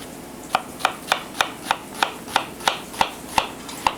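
Steady knife chopping through a Spanish onion on a cutting board, about a dozen crisp, evenly spaced strikes close by, with no voices.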